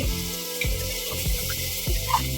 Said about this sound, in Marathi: हे जे हिरव्या पातीचा लसूण जे आहे जे आपण कापून घेतले ते आता याच्यात हे छान परतून घ्यायचे